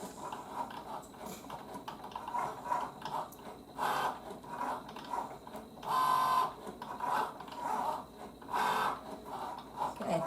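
A Cricut Joy Xtra cutting machine works through heat-transfer vinyl, giving quiet whirring motor passes in short bursts separated by softer pauses, close by and low in level.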